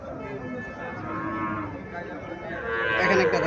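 A Haryana-breed dairy cow from India, offered for sale together with its calf, lets out a long drawn-out moo that swells louder toward the end, with steady livestock-yard noise underneath and no talking.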